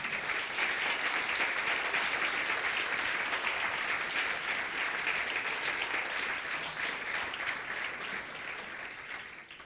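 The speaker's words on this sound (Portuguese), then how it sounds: "Quantos podem receber esses irmãos com um amém e uma salva de palmas" A church congregation gives a long round of steady applause that holds strong for most of its length and then fades slightly toward the end, with no talking over it.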